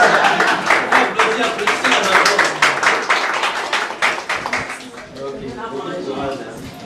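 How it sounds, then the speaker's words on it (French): Crowd clapping at a certificate-awarding ceremony for a digital marketing course, many hands beating steadily and loudly at first, then thinning and fading toward the end as a voice begins to come through. "Applaudissez la major."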